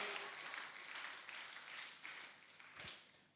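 A church congregation claps together in sustained, moderately distant applause that fills the room evenly, with a faint voice briefly heard beneath.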